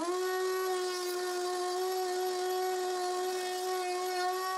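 A woodworking router cuts the socket between tails for a curved dovetail joint in a wooden board, giving a steady, close, high-pitched whine that holds evenly throughout with no voices.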